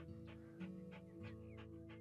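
A Pomeranian dog in the House Flipper video game pants in a steady rhythm of about seven quick, breathy puffs over a constant low hum of game background sound.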